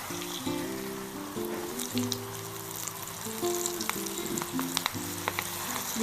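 Onion rings coated in breadcrumbs deep-frying in hot oil, a continuous close sizzle with crackling pops, alongside faint tonal clinks and stirring.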